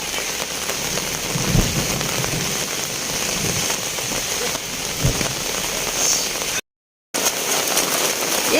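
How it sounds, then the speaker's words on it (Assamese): Heavy rain pouring down during Goru Bihu festivities in Assam, a loud dense steady hiss of drops on surfaces with a few low thumps, continuing unbroken apart from one brief gap. "এই দেখিছোঁ কিমান ডাঙৰ বৰষুণ দিছে"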